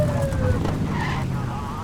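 A police car siren from the video game The Precinct wails over a revving car engine and skidding tyres, with a rising and falling tone heard close and loud.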